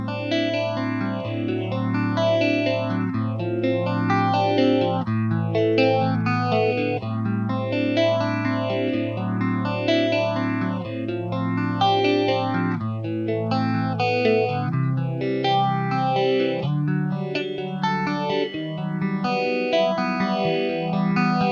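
Electric guitar through a phaser pedal with negative feedback, a sustained chordal line with slow sweeping notches rising and falling in a steady cycle, loud and continuous with no talk.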